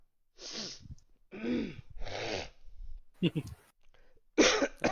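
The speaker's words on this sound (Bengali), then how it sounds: "ভাই কাশি কি যাবে না?" Several harsh, close coughs in quick succession, each a short rough burst with gaps between, loud and clear with little else around them.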